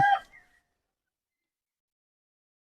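A Serama chicken gives one short, close cluck that fades within half a second and is followed by silence.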